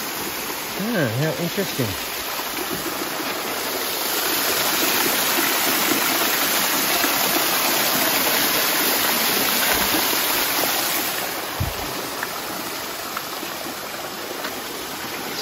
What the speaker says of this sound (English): as it overflows, it's got an overflow channel in it